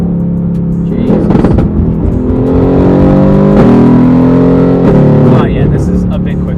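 A Mercedes-AMG GT R with 577 horsepower pulls hard under full acceleration, its engine note climbing steadily in pitch with a gear change near the end, loud and close from inside the cabin while people talk over it.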